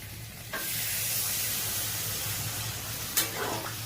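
Potatoes frying in a pan with a steady sizzle that bursts into a louder hiss as water is added, a continuous close crackling broken by a couple of sharp splash-like spurts near the end.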